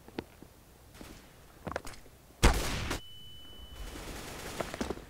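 Gunfire in Counter-Strike: Global Offensive: a loud burst of shots near the middle followed by a ringing tone and noisy game ambience, with scattered footsteps and quieter clicks around it.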